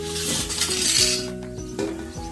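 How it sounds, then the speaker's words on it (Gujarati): Vegetable curry cooking in oil over a village wood-fired stove is stirred in a metal pan, bright clinks and scrapes of the ladle over a light sizzle, with tonal background sounds throughout. "હવે શાકને અમે ફેરવીએ છીએ અને તેલમાં ચડવા દીધું છે"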